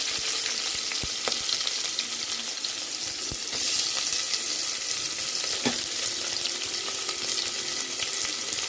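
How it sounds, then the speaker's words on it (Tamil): Onions frying in oil in a pressure cooker, a steady loud sizzle and hiss throughout, with a few sharp clicks and taps from stirring and no voices. "இதில் தாளிக்கிறதுக்கு வெங்காயம் போட்டுக்கலாம்."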